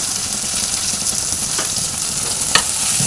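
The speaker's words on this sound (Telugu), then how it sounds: "అన్నీ మంచిగా ఫ్రై కావాలి. పచ్చి వాసన పోయే వరకు ఫ్రై చేసుకోవాలి." Ginger garlic paste, turmeric and asafoetida frying in a pan, a loud steady sizzle with stirring scrapes and a sharp clink near the end, close up and without talk.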